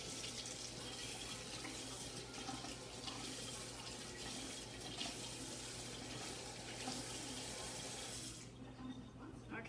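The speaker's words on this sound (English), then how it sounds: "let's see if I'm going to rinse my hands off." Steady broadband rush of water from a kitchen sink tap as hands are rinsed underneath, continuous and close for most of the stretch, then cutting off sharply near the end.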